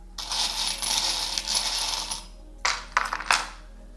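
Small metal charms are tossed for a divination reading, making a long jingling clatter followed by a short pause and a second, choppier burst of rattling metal pieces.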